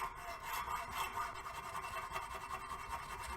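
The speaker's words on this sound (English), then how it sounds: "I'm going to take a hacksaw." A hacksaw cuts through a metal brake lever bar on a Can-Am Spyder F3T trike, giving a steady, close rasping stroke sound that carries on without pause and with no talking.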